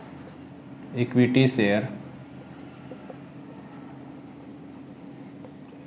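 Pen writing on paper while working a share-issue accounting problem, quiet close scratching strokes that run through the stretch, with a voice talking briefly over the start.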